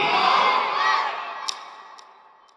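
A large congregation at an outdoor Islamic sermon roars a loud, sustained takbir chant in unison, swelling for about a second before fading away, with a few faint clicks near the end.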